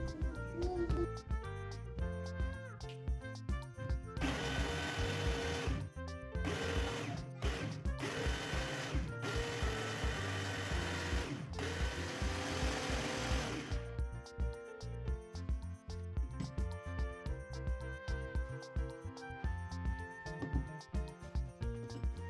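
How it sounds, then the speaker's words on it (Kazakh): A kitchen blender whirs as it mixes smoothie ingredients under a closed lid, a loud, continuous motor drone over background music, with a stronger, harsher stretch of blending in the middle that pulses on and off before settling back. "Барлығын салып алғаннан кейін бетін жауып, блендерімізбен тағы да жақсылап араластыратын боламыз."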